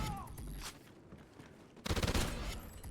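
Automatic weapon fire in the video game Call of Duty Ghosts: after quieter in-game ambience, a short, loud, rapid burst of shots rattles out near the end.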